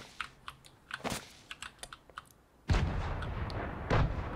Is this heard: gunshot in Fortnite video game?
yes